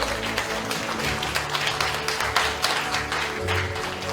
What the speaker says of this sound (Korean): 손을 맞잡고 인사 힘찬 박수 보내주시기 바랍니다.